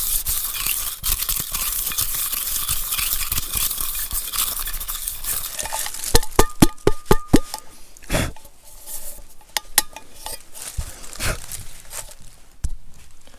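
A cooking pot is scrubbed clean with dirt and fallen leaves outdoors while backpacking, a steady scratchy scouring that gives way to sharp metallic scrapes and knocks against the pot, close and without voices.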